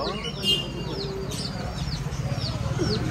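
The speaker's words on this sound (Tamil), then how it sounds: "கோழிலாம் இருக்கிறா" Chickens cluck and chirp repeatedly close by over a constant background murmur at a fish market.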